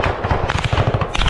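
Rapid bursts of small-arms gunfire crackle through a combat scene in the Kursk region, a dense rhythmic string of sharp cracks close by and loud, with shouting voices mixed in.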